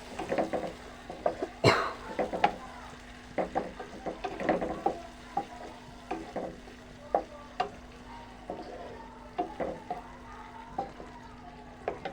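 Spiced boiled chicken cooks in a pan, with close, uneven bursts of sizzling and stirring scrapes over a low background hum and a louder splash near the start.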